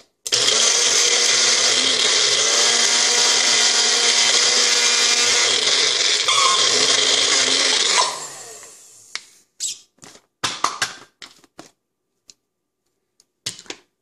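A Magic Bullet personal blender whirs loudly and steadily through nuts for about eight seconds, then stops, followed by scattered clatters and knocks.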